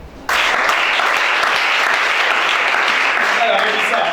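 An audience applauds Chantal at a religious gathering, a sudden burst of dense, sustained clapping that starts abruptly and stays loud and steady for several seconds, with faint voices mixed in.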